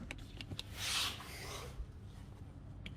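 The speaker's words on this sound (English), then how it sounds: "So as I'm pulling out this axle, I'm angling it at the same time, and I'm pushing down on the spindle." Metal CV axle being pulled and angled out of the spindle on an Acura RSX Type S, driver side, giving a close scraping, rubbing rasp that swells for about a second before fading into quieter shuffling.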